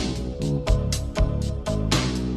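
A slowed, washed vaporwave remix plays on its own, with a thick low bass pulse, smeared chords and regular beat hits rolling through a dense, hazy mix.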